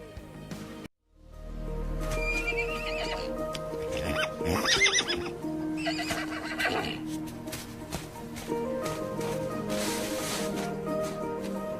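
Horses in the animated film Spirit neighing and whinnying, several loud, close calls over a rich musical background, with hooves clip-clopping in places.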